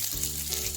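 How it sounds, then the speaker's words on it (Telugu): Sliced onions fry in a couple of spoons of ghee in a kadai, making a brief, even, close sizzle with a soft crackling hiss. "గోల్డ్ కలర్ వచ్చేదాకా వేయించుకోవాలి."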